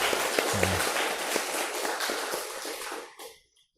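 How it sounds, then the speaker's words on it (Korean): A church congregation applauds the choir after a hymn, a dense burst of clapping close by that fades out near the end. "우리 박수 한번 올려드리겠습니다"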